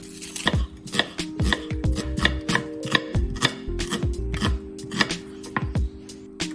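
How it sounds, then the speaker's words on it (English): A knife thinly slicing an onion on a cutting board, with steady, crisp chops repeating at an even rhythm, close and fairly loud with no talking. "Slice the onion thinly."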